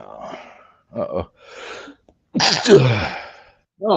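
A person sneezes loudly and close by at a scale-modelling workbench: a couple of sharp sniffs and breaths build up, then one explosive sneeze, followed by another quick intake of breath.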